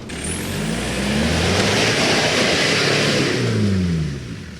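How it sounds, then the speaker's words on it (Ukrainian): Repaired military support vehicle engine revving loudly nearby, a continuous mid-pitched roar that rises and falls as it accelerates, then fades slightly at the end. "Вона стала взагалі така резва машина, ну, бджілка, просто жужить"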